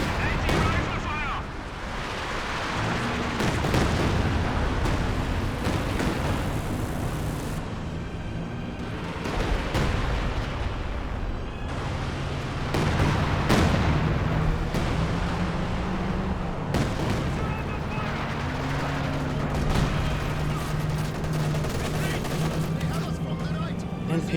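In Company of Heroes 2, a Panzerwerfer rocket artillery barrage fills a dense, loud wall of booms and blasts amid game noise while a commentator talks over it.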